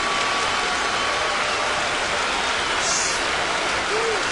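Huge crowd of about 46,000 at a 2009 Athletics baseball game roaring and cheering in a dense, continuous wash of noise that holds steady throughout, with a broadcast voice faintly underneath.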